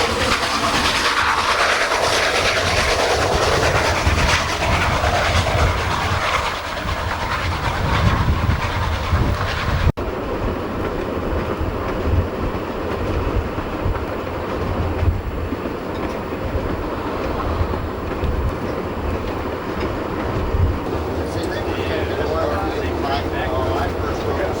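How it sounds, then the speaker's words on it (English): An old mixed train of the Patagonian Express, wood-burning and slow, rolls steadily along its rails with a continuous rumbling clatter throughout, while a voice narrates over it. "The thrice-weekly mixed train takes 15 hours to make the full journey, at an average speed of 27 kilometers an hour."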